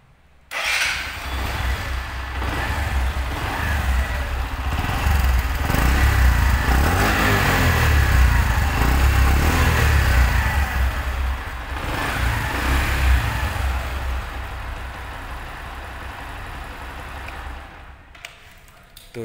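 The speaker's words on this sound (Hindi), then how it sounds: "इसका एग्जॉस्ट नॉट एक बार सुन लेते हैं आप" A Bajaj Platina H Gear 110 motorcycle idles after a self-start, its exhaust giving a steady, loud, close-up engine rumble that holds for most of the stretch before fading at the end.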